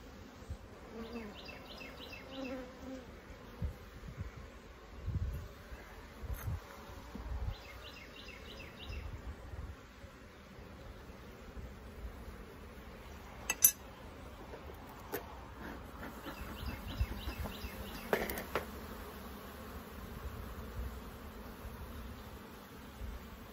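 Honey bees buzzing steadily at an open hive during a beekeeping inspection in Texas, a continuous low insect drone with occasional nearby handling noises and a few sharp knocks; no talking.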